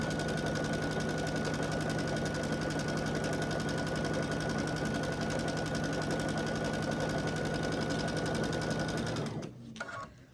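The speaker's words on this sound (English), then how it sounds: "I'll just start sewing at 1/4 inch" A sewing machine stitches quilt strips at a quarter-inch seam, running as a loud, steady, fast mechanical whir for about nine seconds before stopping abruptly with a few soft handling clicks.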